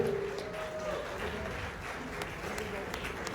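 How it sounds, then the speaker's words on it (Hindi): A network marketing awards audience claps steadily at moderate volume, the applause carrying on throughout while a brief voice cuts in near the start. "जोरदार तालियां।"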